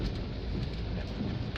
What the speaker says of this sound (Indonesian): Karena melihat intensitas hujan cukup deras